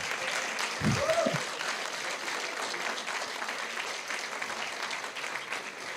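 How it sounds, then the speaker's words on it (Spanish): A church congregation applauds during a sermon, a soft steady wash of clapping from the room with a brief shout or voice near the start. "Denle un aplauso al Señor."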